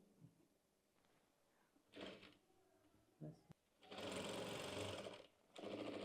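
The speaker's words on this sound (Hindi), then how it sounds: "एक सिलाई लगाने के बाद चलेंगे स्टार्टिंग पॉइंट पे और इसके ऊपर डबल सिलाई करेंगे" A sewing machine double-stitches lace onto a gharara in short bursts, ending with two longer loud runs of motor whir, and there are brief handling clicks between them in an otherwise quiet room.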